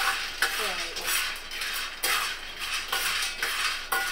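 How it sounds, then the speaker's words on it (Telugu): Peanuts roasting in a pan as a utensil stirs them, giving a steady scraping, clattering rattle with repeated strokes every half second or so, close and fairly quiet, with no talking. "పల్లీలు వేగుతున్నాయి."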